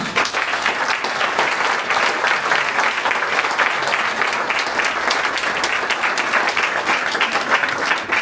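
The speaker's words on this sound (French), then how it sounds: "je vous invite à les applaudir, toutes les 3 communes" An audience at a town twinning ceremony applauds the three partner towns with loud, dense, sustained clapping that continues evenly throughout without a break, close and full.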